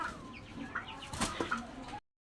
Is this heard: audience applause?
no